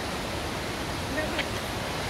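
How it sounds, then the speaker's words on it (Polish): Kravica waterfall in Bosnia and Herzegovina, a constant broadband roar of falling water that stays even and fairly close throughout. "na wodospadach"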